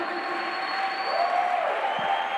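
A church congregation claps together in a steady wash of applause, with a sustained musical tone lingering underneath, brief and fairly loud.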